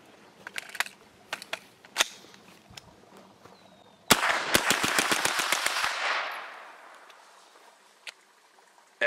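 Rapid bursts of gunfire from an AR-15 style 9mm carbine, a few scattered shots first and then a fast string of sharp reports with a ringing echo trailing off, loud and close.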